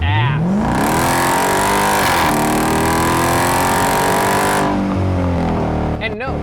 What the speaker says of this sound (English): A modified 2014 Jeep Grand Cherokee SRT. And right now I'm feeling good because boy does this thing haul ass.